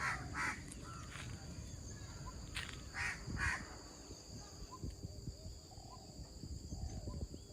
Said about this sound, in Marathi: पक्षी येत आहेत मस्त झाडावर